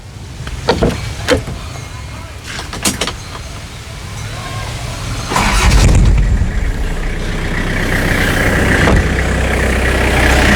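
A Toyota Mighty pickup with a 2L diesel engine: a few clicks and knocks come first, then the engine settles into a steady, smooth, close idle rumble that holds to the end.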